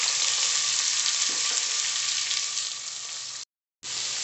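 Four large finely chopped onions frying in hot oil for a mutton kuzhambu, giving a loud, steady sizzle with a faint stir partway through before a brief cut of silence and the sizzle resumes.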